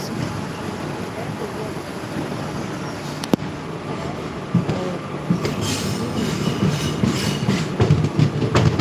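Continuous rumble of a train rolling along the rails, with occasional clacks and one sharp metallic click, growing a little busier later on.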